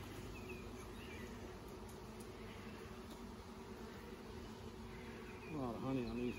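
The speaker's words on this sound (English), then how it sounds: "I feel like we have a lot more active bees." A steady, faint drone of buzzing honey bees fills the air throughout, with a brief louder wavering buzz near the end.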